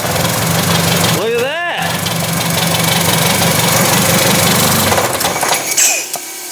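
A Mitsubishi Lancer engine running loudly and roughly with a steady knocking chug, briefly joined by a rising whine, while a person speaks over it.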